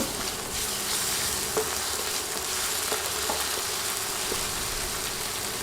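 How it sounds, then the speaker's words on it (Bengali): Garlic and ginger paste frying in a pan for a vegetable dish, making a continuous close sizzle with occasional soft stirring taps, steady and unbroken, with no voices. "নেড়ে বাটা মশলাগুলো কয়েক সেকেন্ড ভেজে নিব"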